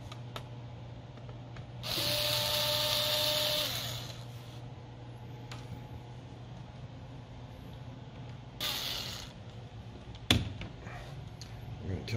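A cordless screwdriver whirs briefly while backing screws out of an HP 17.3-inch 17z series laptop, with one longer burst and a couple of short ones, close and moderately loud amid quiet handling clicks.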